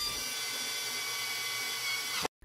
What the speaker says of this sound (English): With a little downward pressure, the self-tapping insert will cut its way into the aluminium until fully installed.